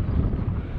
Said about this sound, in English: Bit windy up this one.